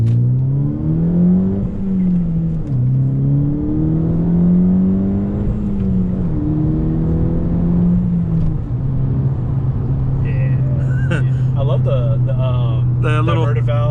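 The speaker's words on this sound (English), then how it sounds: "hearing the turbo noises and the diverter valve whenever it releases" Turbocharged VW MK6 GTI with a manual gearbox, engine droning and rising through gears with shifting pitch, then short hissing diverter-valve releases near the end, with talk over the engine.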